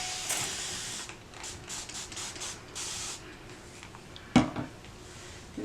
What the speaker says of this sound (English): now what I'm going to do is take my spray bottle.